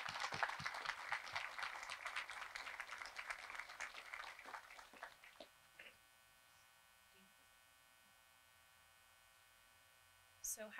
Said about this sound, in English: I just want to give them one round of applause real quick